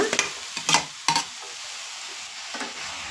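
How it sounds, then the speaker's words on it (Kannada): Raw jackfruit palya with green chillies is stir-fried in a pan: several quick scraping stirs early on, then a fainter sizzle with one more stir toward the end. "ಇವಾಗ ಇದನ್ನು ಚೆನ್ನಾಗೆ ಹುರ್ಕೊಳ್ಬೇಕು"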